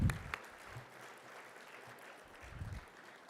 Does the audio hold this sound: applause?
yes